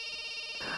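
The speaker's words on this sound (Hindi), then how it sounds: "अरे बार बार फोन बज रहा है, उठाते क्यों नहीं हो?" A mobile phone rings with a steady electronic tone that runs through the whole short stretch, fairly loud and close, with no voices over it.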